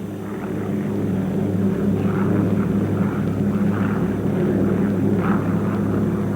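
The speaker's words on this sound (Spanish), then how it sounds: "Bombarderos ligeros, como estos Petliakovs PE-2S, también muy efectivos como atacantes nocturnos" Soviet Petlyakov Pe-2 light bombers flying during WWII: a steady, loud propeller-engine drone with a constant low rumble and no break.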